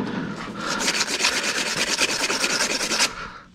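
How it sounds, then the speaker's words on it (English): Transmission output shaft being polished by hand, a close, steady rasping rub in rapid regular back-and-forth strokes lasting about three seconds, with no talking. "most of the time you got to do a little bit of polishing on these"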